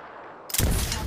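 Gunfire in the video game Apex Legends, a quiet moment broken by a sudden loud burst of shots that continues as dense rapid firing, close and forceful.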